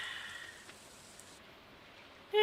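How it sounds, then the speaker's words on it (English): Rain falling in the Stardew Valley video game, a steady light patter of drops heard alone, with a short bright game chime at the very end. "A warm rain is a pleasant way to get clean."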